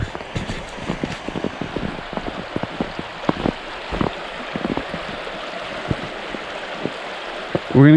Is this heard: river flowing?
yes